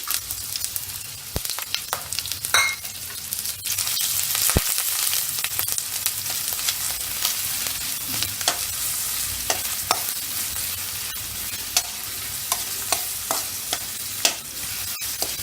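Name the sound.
onion sauteing in a pan over medium flame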